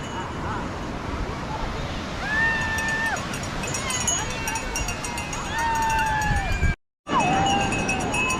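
Wind and surf wash steadily across Rushikonda beach in a dense, continuous broadband roar, with whistles and distant crowd noise, and people talking close by over it.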